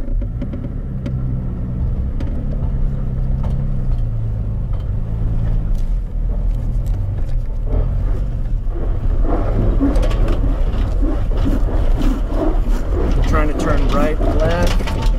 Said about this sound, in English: we're gonna run up to this ledge here in factory low range. I'm gonna need to feather the throttle